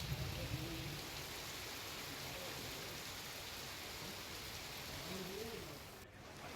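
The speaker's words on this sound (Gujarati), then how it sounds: "જાફરાબાદના ટીબી ગામે ધોધમાર વરસાદ પડ્યો હતો" Heavy rain pours down in TB village of Jafrabad, a dense steady hiss of falling water heard from a distance, unbroken and fairly faint, fading slightly near the end.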